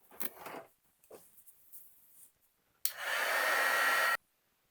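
A heat tool blows hot air onto a stuck tuning condenser part from a Stewart-Warner 1262 antique tube radio, a steady whooshing roar lasting about a second and a half after a few faint handling knocks.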